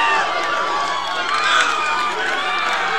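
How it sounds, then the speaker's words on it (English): A college baseball crowd roars steadily after a 4-3 walk-off win by the Doane Tigers over Concordia, sustained loud cheering with a commentator talking over it. "The crowd is going wild"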